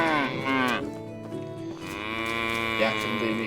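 Cattle lowing in the medieval village game Medieval Dynasty, several drawn-out, harmonic moos following one another across a few seconds, loud and close over a low farmyard background.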